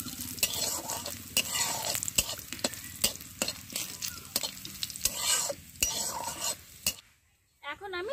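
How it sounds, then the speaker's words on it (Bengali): Black cumin seeds stirred in hot oil for a village-style greens dish: a steady sizzle with repeated scraping strokes of a spatula against the pan, close and fairly loud, ending in a brief quiet pause before the frying resumes. "কালো জিরে, তিরিশ সেকেন্ড মতো আমি নাড়াচাড়া করে নেব।"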